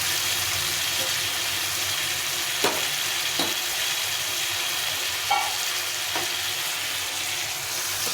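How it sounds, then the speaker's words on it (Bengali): Spice paste and tomato paste sizzle in hot oil, a steady frying hiss with occasional sharp clinks and scrapes of a spoon stirring the pan. "এটা দিয়ে একটু ভালো করে কষিয়ে নিতে হবে"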